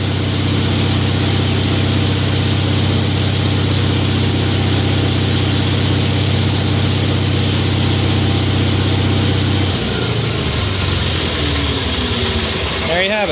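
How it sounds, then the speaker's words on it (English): A 5,000-watt Kohler generator running on propane drones loudly and steadily at close range, then sputters and winds down as its fuel is cut off, with the engine dying in the final seconds. "you'll see how the motor will shut right off once it runs out of propane"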